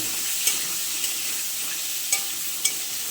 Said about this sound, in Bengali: এই যে আরেকটা কড়াইতে আমি পটলগুলো ভেজে নিচ্ছি।